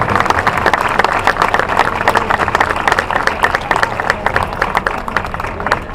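Close, lively applause and clapping from an audience for Anuk, a guide dog, at a demonstration, a busy, uneven patter of hands lasting several seconds.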